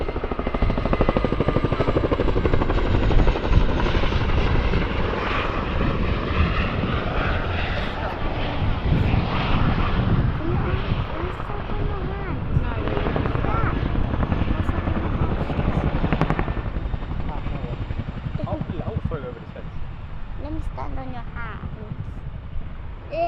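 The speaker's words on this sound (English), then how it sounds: "After the nose down pit stop, the Chinook will be expeditiously manoeuvred forward and down to recover the troops on the ground." A Chinook helicopter flies a display at the Farnborough International Air Show 2024. Its loud, continuous rotor thrum and engine roar fill the whole stretch, holding steady and easing off slightly near the end, with a commentator's voice over it.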